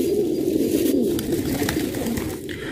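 A Nimru pigeon with red kullu colouring coos in a steady, low, throaty drone that rolls on through the moment, close and fairly loud, among a large set of fancy pigeons kept outdoors.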